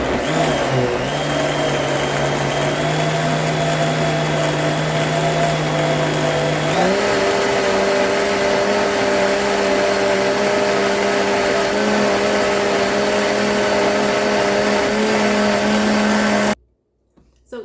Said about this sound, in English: I'm using a high-powered blender here so that I get a really creamy consistency